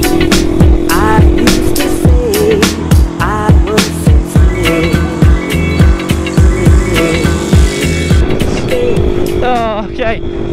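A pit bike engine revving and shifting through repeated throttle bursts while being ridden around a wet lap with puddles, loud and close with constant wind noise, as a rider talks over it.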